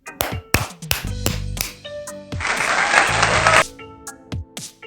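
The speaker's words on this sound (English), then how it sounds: "Clapping" Hands clap alongside a children's vocabulary lesson on human sounds: several sharp separate claps, then a brief burst of fuller clapping in the middle, mixed with light chimes and music.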